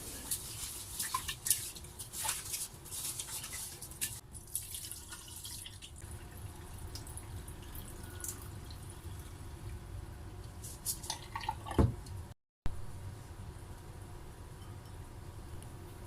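Rice is rinsed under a running kitchen tap for pancit guisado and biko, with a steady stream of water and scattered drips and splashes continuing close by throughout.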